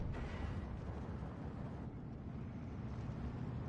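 Bombs dropped by a P-51 fighter exploding in the war strategy game Steel Division 2, heard as a continuous heavy roar and rumble that stays loud and dense throughout, with no gaps or quiet moments.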